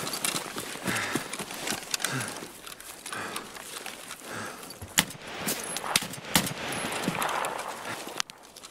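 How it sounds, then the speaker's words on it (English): Gunfire in the video game Escape from Tarkov, on the Customs map, heard as scattered sharp cracks and a few louder shots over steady background noise, spaced irregularly across the clip. "Somebody's shooting at me."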